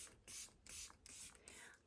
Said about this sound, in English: This is the Pore Eclipse Matte Setting Spray from Milk Makeup.